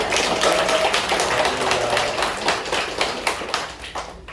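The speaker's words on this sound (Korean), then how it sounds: "박수하겠습니다" A church congregation applauding, a dense run of clapping that rises and thins over a few seconds, loud and close with no talk over it.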